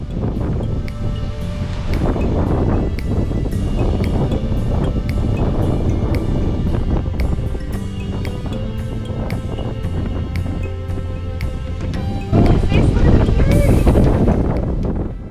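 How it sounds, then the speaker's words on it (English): Strong wind blows on a hilltop in a national park, roaring and buffeting the microphone continuously, growing louder near the end, with no talk. "It was such a windy day"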